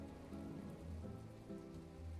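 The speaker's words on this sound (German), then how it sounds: "Oh, es regnet!" Steady rain falling in the farming game My Time at Portia, a soft, even wash of drops hissing continuously at low level with no voices.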